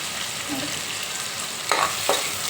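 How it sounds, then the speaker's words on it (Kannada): Curry leaves frying in hot oil with chana dal for a spicy, tangy gojju: an even, close hiss joined late by two brief spoon scrapes, no talking. "ಕರ್ಬೇವು ಸೊಪ್ಪು ಸೇರಿಸಿ ಸ್ವಲ್ಪ ಫ್ರೈ ಮಾಡ್ಕೊಡೋಣ"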